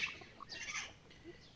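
Doves kept in a crowded aviary, with soft bird calls, chirps and brief wing flutters heard close by, fairly quiet against a low background.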